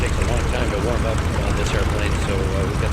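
An A6M5 Zero's aircraft engine idles through its warm-up at low revs, a steady close rumbling drone throughout while someone talks over it.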